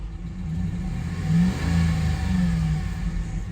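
A 2012 Dodge Ram 1500 engine with a cylinder 6 misfire, running steadily up close with a low uneven rumble and a brief rise in revs midway.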